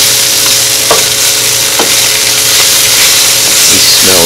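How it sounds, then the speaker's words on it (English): Food stirred in a pan over a constant loud sizzle, with a few scraping utensil strokes at irregular intervals. "And then we'll stir it in with everything else."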